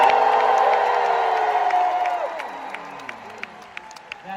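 A huge crowd at the D23 Disney fan convention shouts and cheers, a loud, sustained roar that gradually fades, leaving scattered whoops and claps.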